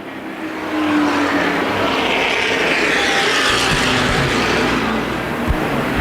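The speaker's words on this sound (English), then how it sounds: "Side by side for about the 8th position is Steve Stacy in the 95, racing with Kevin Claiborne" Late model sportsman race cars racing at Winchester Speedway: a steady, loud, broad engine roar from the pack of cars that holds on without a break and builds slightly after the first second.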